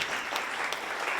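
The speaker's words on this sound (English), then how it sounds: "Can we give them a round of applause" An audience at an entrepreneurship event breaks into a dense round of applause, loud and continuous claps filling the room for the whole short stretch.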